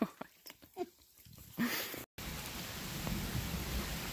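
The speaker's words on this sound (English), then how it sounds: "Well, you can hear the thunder." Thunder and rain on the Appalachian Trail near Chestnut Knob, some scattered taps and knocks, then after a short dropout a steady wash of rainfall with a low rumble beneath it.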